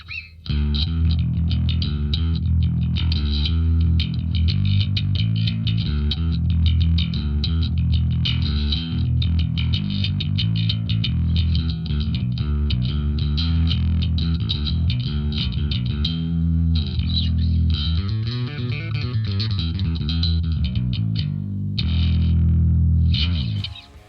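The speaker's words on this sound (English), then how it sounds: "I think it's still okay, this kind of distortion." A distorted bass guitar played through an Ampeg SVT amplifier combined with Marshall JCM 800 distortion, with a heavy, thick low end and a gritty upper edge, sustained loud and steady for the whole stretch with no talking.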